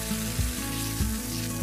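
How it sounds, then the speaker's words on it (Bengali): Vegetables and black cumin seeds frying in hot oil for a drumstick and katla fish curry, giving a steady sizzle with a few low thumps as ingredients go into the pan, with no voices. "আর এখন তেলের মধ্যে দিয়ে দিলাম কালো জিরে, আর দিয়ে সবজিগুলোকে দিয়ে দিচ্ছি।"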